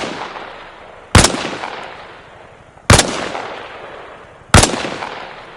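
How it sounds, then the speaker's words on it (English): Three loud, evenly spaced rifle shots at targets in the video game Arma Reforger, each a sharp crack trailing off into a long echoing tail. "Try again. Only this time, fire from a standing position."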